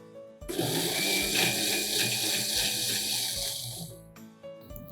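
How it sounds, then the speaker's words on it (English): A blender briefly grinds a soaked samo millet mixture for dhokla batter, a loud steady whir running about four seconds before cutting off, with no talking. "now I'm just going to lightly grind it in the blender"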